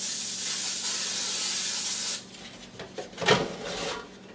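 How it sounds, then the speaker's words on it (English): Cooking spray hisses from an aerosol can into a slow cooker for a French toast casserole: a steady, close spray lasting about two seconds, followed by quieter clinks and handling noises. "So I will spray this down just a little, just to make sure we don't get anything."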